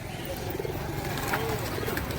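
Faint pigeons coo softly at a busy outdoor market in Birnagar, with indistinct voices and bustle all around.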